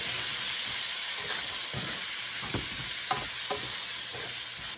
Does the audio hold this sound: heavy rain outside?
no